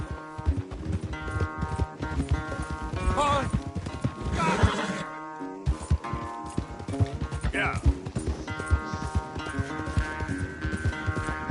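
Hooves clip-clop in a fast gallop during a horse race in a PS4 video game, with neighs, game music and a person talking over the action.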